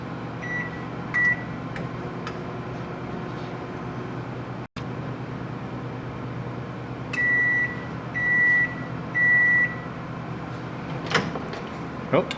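A microwave oven hums steadily while melting chocolate, with a door thud near the middle. A series of sustained beeps follows later, and a few clicks and handling sounds come near the end.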